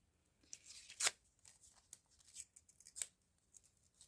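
Scissors fussy-cut paper for a card, giving a series of crisp, close snips at irregular intervals, two sharper cuts standing out, with soft paper rustling between them and no talking.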